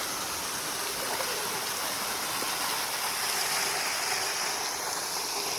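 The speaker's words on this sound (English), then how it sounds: "How cool is this? Ever been behind a waterfall before? 'Cause we are now." Steady rushing roar of a waterfall heard from a walking path right behind the falling water in the Sipsey Wilderness, loud and continuous with no talking.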